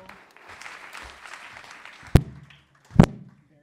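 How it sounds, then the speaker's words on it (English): Audience applause greets a guest speaker at the Kennedy Center Arts Summit in Washington, D.C., a moderate, fading patter of clapping followed by two sharp, loud knocks near the end. "So let's do another round of applause for our next guest."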